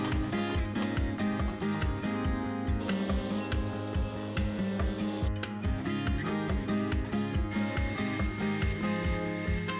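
Screws are driven into a simple wooden workshop build, with a steady run of rapid mechanical clicking and whirring close by, loud and continuous for the whole stretch with no talk.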